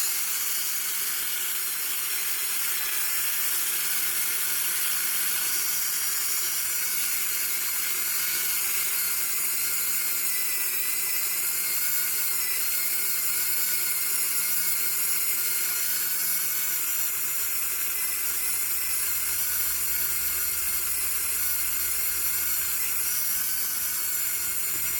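Polymer clay pendant edges being buffed with a small power tool, a steady high whirring hiss that runs evenly and close throughout, with no talking.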